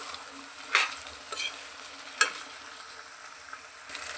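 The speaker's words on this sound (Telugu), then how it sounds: "ఇప్పుడు ఆలు వేసుకోవాలి. వీటిని బాగా కలపాలి." Potatoes stirred into a tomato and onion curry in a pan, with a faint steady sizzle broken by three or four brief scraping knocks of a spoon, close and quiet.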